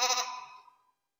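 Lambs bleat in a shed, a single close, loud bleat that fades out over about a second with no talk.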